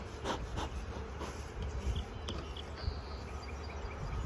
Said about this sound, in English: get them back in here so I can get their cover back on without smashing any more bees